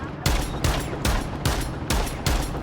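Automatic shotgun fire in Rainbow Six Siege: five loud, booming blasts spaced evenly about half a second apart, each with a sharp attack and a short ringing tail, close and with no talking.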